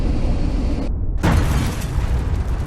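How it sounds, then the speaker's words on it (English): A violent secondary dust explosion erupts as accumulated dust above a ceiling ignites, a loud, close, rumbling boom with a brief cut-out and then a renewed burst of heavy roaring noise. "It lofted the accumulated dust above the ceiling into a thick cloud, which then ignited in a much more violent secondary explosion."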